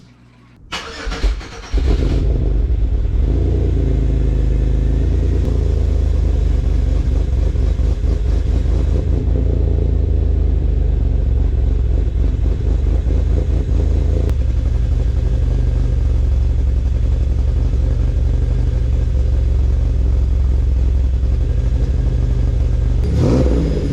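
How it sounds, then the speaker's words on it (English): A cammed Pontiac Grand Am engine cranks and fires up, then settles into a loud, lumpy, choppy idle that rumbles steadily close by. "fire it up for you guys real quick, so you guys can hear the cam a little better"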